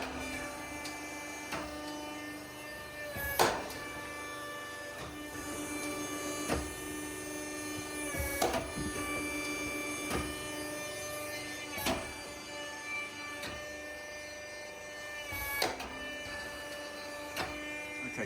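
A FALACH 50 sawdust machine with an internal rotating knife runs in a workshop. It gives a quiet, steady mechanical hum, with a faint knock or click every few seconds.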